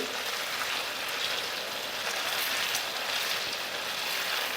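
Chicken pieces fry in masala while being turned, for dahi chicken cooked restaurant-style; a steady, loud hiss and crackle of sizzling fat fills the whole stretch without pause.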